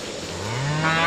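A single cow moos close by, a rising, drawn-out call that grows louder toward the end, with cattle being called in from pasture on a grazing farm.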